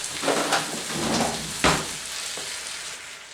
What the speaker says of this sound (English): go ahead and stir that around